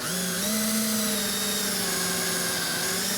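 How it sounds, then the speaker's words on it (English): A power drill whirs steadily at high speed, its pitch dipping slightly as it bites into wood, loud and close with no talking. "We're doing this on a piece of wood so that we can actually drill through."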